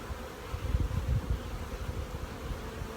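Honey bees hum inside a hive box during a fall brood nest check, a close, steady, low drone with slight swells and no voices.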